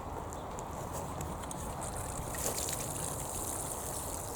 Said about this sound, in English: So we need to water these now.